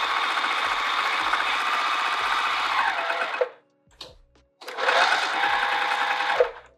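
Sewing machine stitching a bucket tote pocket, its busy mechanical whir running for several seconds, cutting out briefly, then starting again with a second run.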